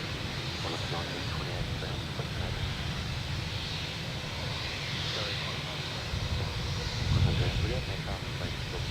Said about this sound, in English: got a Virgin, Qantas on approach. It's the E190.